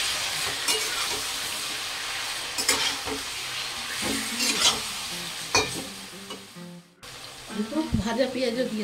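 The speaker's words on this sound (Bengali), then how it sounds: "এবার আমি ম্যারিনেট করা মাংসটা দিয়ে দিই।" Marinated meat sizzles and hisses as it is stirred in a pot with whole spices and bay leaves for one-pot biryani, with a steady frying hiss, scraping stir strokes, and a brief pause near the end.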